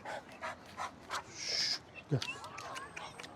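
Quick rhythmic panting breaths from a nearby dog, with light rustling and a brief squeak over outdoor background noise.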